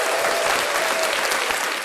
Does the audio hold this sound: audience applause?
yes